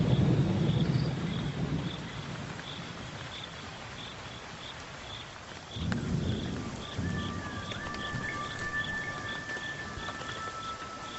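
Rain and a distant storm rumble across the Okavango wilderness, a steady wash of falling water with low rolling thunder swelling near the start and again midway, while insects chirp in a regular pulse over the top.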